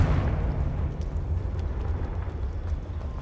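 Casting the Confringo fire spell in Hogwarts Legacy sets off a loud, sustained fiery explosion with a deep rumbling roar and crackle that lasts throughout.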